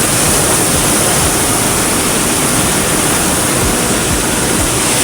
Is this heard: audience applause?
no